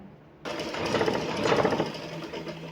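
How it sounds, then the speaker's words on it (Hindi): A sewing machine runs steadily, stitching the side seam of a pocketed plazo trouser, a close, continuous mechanical whirr with a rhythmic needle chatter that starts abruptly after a brief quiet moment and carries on alone. "बराबर करके आपने यहाँ से इसकी स्टिचिंग करते चले जाना है"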